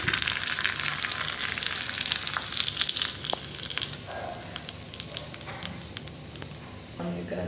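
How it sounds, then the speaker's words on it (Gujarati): Hot tadka tempering sizzles and crackles steadily as it is poured over rice flour dhokla, a close, dense frying hiss with scattered pops throughout. "હવે આપણે ઢોકળા પર તડકો કરી લઈશું."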